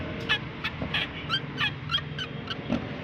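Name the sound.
car suspension squeaking as the car is rocked up and down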